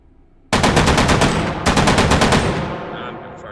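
Two loud, close bursts of rapid automatic fire from a WW2-era gun in the VR shooter H3VR, fired from standing; each burst holds about a dozen sharp shots, with a short gap between them and a ringing tail after.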